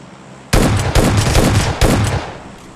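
Rifle fire in a mobile battle-royale shooter: three loud, close bursts of rapid automatic gunshots in quick succession, each ringing off briefly, with no speech.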